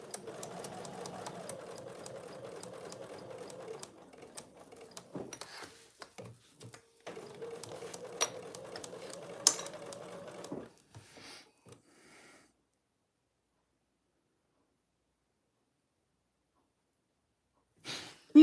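Sewing machine basting oven mitt fabric layers together runs in two long steady bursts of stitching, with brief stops and shuffling in between, then falls quiet until a faint noise at the very end.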